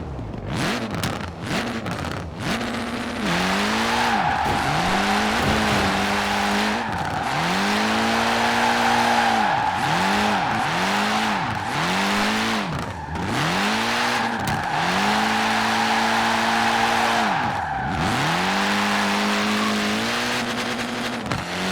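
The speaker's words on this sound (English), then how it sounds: "the Horizon 5 audio is a slightly better sounding version of the FH4 Turbo Rally engine sound" A rally car engine in Forza Horizon 5, the Turbo Rally engine sound, revs up and down repeatedly through gear shifts, loud and close, with brief tire squeals between accelerations.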